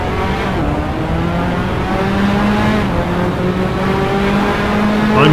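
Racing cars in the simSS3 sim racing game at Magione, heard on board: loud engines revving near the rev limit with rising and falling tones, overlapping another car nearby, continuous with no talk.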